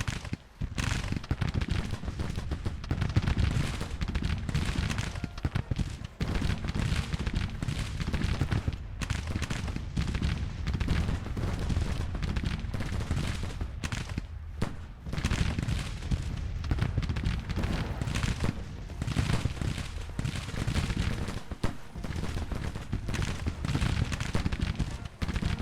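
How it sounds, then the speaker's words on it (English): Musket volleys and close-range artillery in the Civil War strategy game Grand Tactician, a dense, continuous roar of overlapping gunfire and booms from all sides, loud and unbroken for the whole stretch. "lots of volleys now, devastating volleys coming from all sides. They brought up some close range artillery though."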